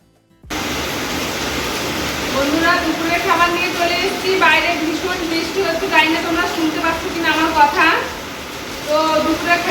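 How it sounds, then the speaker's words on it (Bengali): Fish frying in a pan gives a steady, loud hissing sizzle, with a voice talking over it throughout. "এখন সুন্দর করে মাছটা ভেজে নিচ্ছি"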